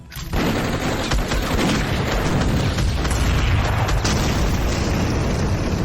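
Units opening fire on mutants in the video game Bastion Forge, a dense, loud barrage of gunfire and booming explosions erupting suddenly and rolling on continuously, with no voices.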